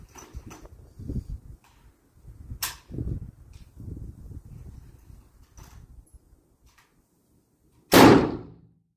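A single loud, sharp rifle shot from a 6.8 Western cartridge fired down range cracks near the end, after quiet handling and shuffling sounds, with no talking.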